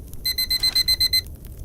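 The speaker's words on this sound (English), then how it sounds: "Okay, so that's the bedtime alarm." A video game bedtime alarm rings as a rapid series of eight bright electronic beeps in an even rhythm, loud and clean, with quiet game ambience before and after.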